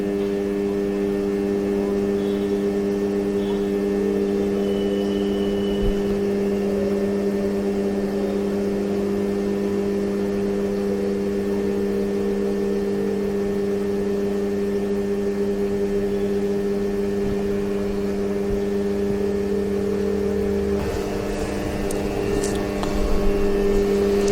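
Metallographic polishing machine switched on and running at 250 RPM, giving a steady, continuous motor hum with strong tonal bands that holds at an even level throughout, with a slight change near the end.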